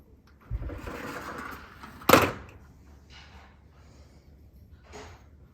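A screen door slides once with a short, sharp scraping rush, surrounded by softer rustling movement and a faint later shuffle in a quiet room.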